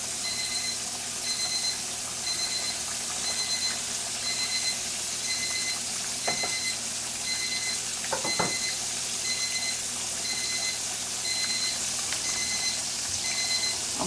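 A pork chop fries in a pan with a soft, constant sizzle, while a repeating electronic beep pulses in the background and a couple of brief clatters break through.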